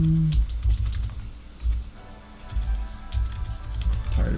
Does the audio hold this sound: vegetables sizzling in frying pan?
no